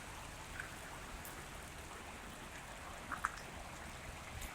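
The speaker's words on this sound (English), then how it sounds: "Even when it is raining." Steady rain falls in a graveyard, a soft continuous hiss with a few scattered nearer drips, even in level and with no voices.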